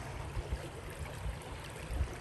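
Water in Leslie Run creek in East Palestine, Ohio, flows in a quiet, steady rush with soft low gurgles, faint and continuous with no voices.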